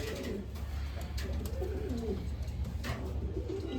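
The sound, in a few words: pigeons cooing in a cage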